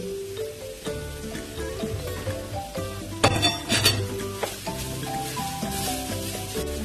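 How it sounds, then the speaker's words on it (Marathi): Shredded dry coconut sautéed in a pan for beetroot halwa, a soft steady sizzle with scraping stirs and clinks of a spatula against the metal, louder bursts midway, no voices. "खोबऱ्याचे केस मस्त परतून घेऊ याच्यामध्ये एक दोन मिनटं खोबऱ्याचे केस परतून घ्यायचे आपल्याला"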